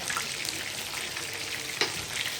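Sausage fries in a pan with a continuous close hiss and sizzle, broken by occasional sharper crackles and pops, heard with no talking.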